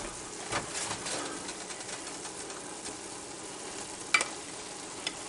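Pork and peppers stir-fried with rice in a pan, giving a soft steady sizzle with light scraping and one sharper clatter near the end.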